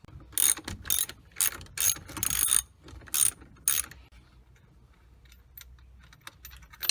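A ratchet works a large steering wheel nut loose with a run of loud, close, rapid clicking bursts in quick succession, then falls quiet apart from faint handling sounds.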